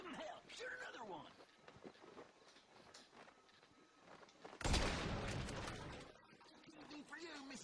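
Gunfire in the GTA V video game erupts in a loud, dense burst partway through, rolling on beneath steady in-game voices and background noise.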